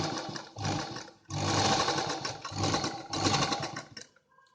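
A sewing machine joins two panels of an A-line inner collar jacket dress in loud, steady motor runs. The whirring bursts stop and restart in separate passes, with brief pauses between them.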